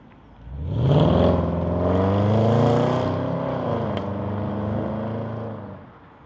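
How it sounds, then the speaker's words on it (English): A Range Rover SVR pulls away for a drive, its engine swelling into a loud, sustained rising roar that holds steady, then eases slightly as the SUV moves off, close and alone with no talk. "I think we'll just go hit the road and just take it for a small drive."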